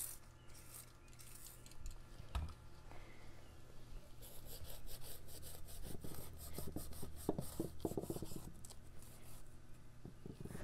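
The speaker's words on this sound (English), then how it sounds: "I'm going to just use a really, really light Scotch-Brite pad to help pull those contaminants off of that surface" A light Scotch-Brite pad scrubs an engine surface clean of contaminants before it is sealed with silicone RTV gasket maker, a dry rasping rub that turns faster and louder in rhythmic strokes partway through.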